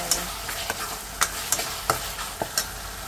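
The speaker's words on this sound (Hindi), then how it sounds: "फिर इसमें हम डाल देंगे जो मसालों का घोल बनाया है" A spice paste fries in oil with tomatoes in a pan, giving a soft continuous sizzle broken by about eight sharp, close scraping clicks of stirring at an uneven rhythm.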